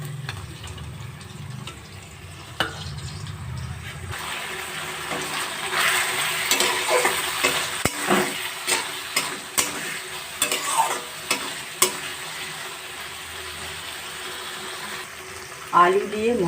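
Fried potatoes are tossed into spiced masala bubbling in oil and stirred with repeated scraping strokes over a lively sizzle. The sound is close and clear and grows busier partway through.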